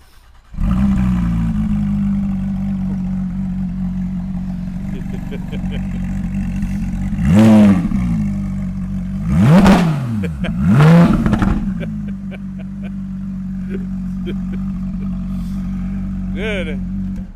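A 2016 Porsche GT3 RS engine cranks and catches into a loud, close, steady idle, then gives three sharp throttle blips that rise and fall quickly before settling back to idle.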